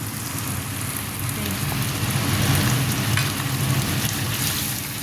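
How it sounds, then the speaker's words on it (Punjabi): Bell pepper fries in a pan with a loud, dense, continuous sizzle and crackle, close up, and no speech over it. "ਹੁਣ ਮੈਂ ਇਹਦੇ 'ਚ ਸ਼ਿਮਲਾ ਮਿਰਚ ਪਾ ਦੂੰਗੀ"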